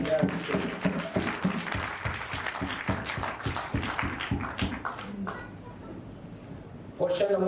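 A church congregation claps together in lively, fairly rhythmic applause for several seconds before it fades, then a voice starts speaking again.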